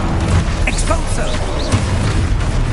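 In Hogwarts Legacy, an Expulso spell goes off as a loud blast amid a busy combat mix of whooshes and sparkling effects, with a boom near the start and another burst later.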